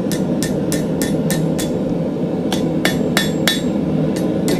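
Hammer blows on a hot iron scroll being forged into a candlestick, a steady run of sharp metallic strikes in two clusters with a short pause between, loud and close over a constant forge roar.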